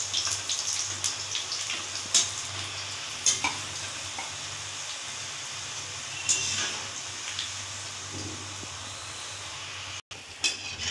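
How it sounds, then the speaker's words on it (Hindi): Roti pieces deep-fry in a kadhai of hot oil with a steady crackling sizzle, broken by scraping stirs and occasional louder clinks of the spoon against the pan. "अब हम इसमें रोटी के पीसेस डाल देंगे और इनको क्रिस्पी होने तक फ्राई कर देंगे"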